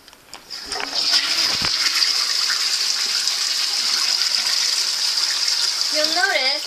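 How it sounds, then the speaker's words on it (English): A Japanese toilet flushes with a steady, loud gush of rushing water that runs for several seconds, followed by a refill trickle as the bowl fills. "Now I'm going to flush."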